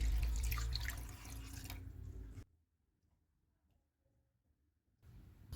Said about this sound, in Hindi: इनमें 2 कप पानी डालेंगे।